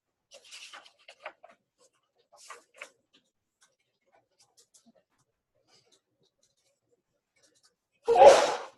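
A single loud, close sneeze bursts out near the end after a stretch of faint scratching and quiet movement.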